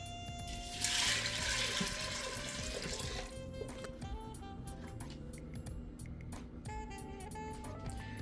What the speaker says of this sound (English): And then I'm going to add some water.